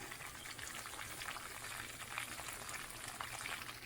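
Stir-fry ingredients sizzling in coconut oil in a pan, a quiet, even crackle and hiss heard close by and alone.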